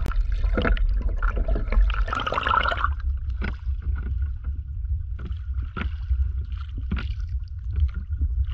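Small dinghy on calm, mill-pond-flat sea water before a mackerel fishing trip, soft lapping and knocking against the hull under a low steady rumble, close and unhurried, with no talk.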